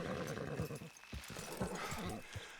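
A horse whinnies in the epilogue of the video game Red Dead Redemption 2, set against steady game ambience with some voices mixed in.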